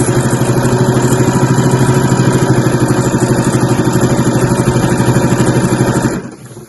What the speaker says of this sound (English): and just sew along there as one last seam to finish this pocket